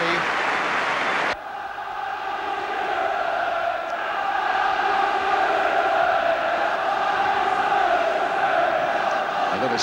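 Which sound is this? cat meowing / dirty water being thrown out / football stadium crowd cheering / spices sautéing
football stadium crowd cheering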